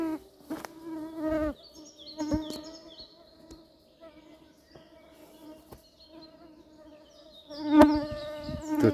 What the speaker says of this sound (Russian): Вот такое вот количество комаров